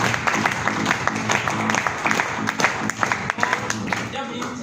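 An audience at a gathering gives hearty applause, with crisp overlapping claps rising through the room while voices carry on talking underneath.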